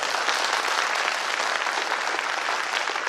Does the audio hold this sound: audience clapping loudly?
yes